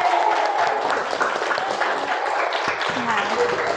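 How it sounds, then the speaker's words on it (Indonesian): Classroom applause as students clap for classmates who scored 100 on a test, a steady dense patter of hands lasting throughout with voices talking over it. "tepuk tangan."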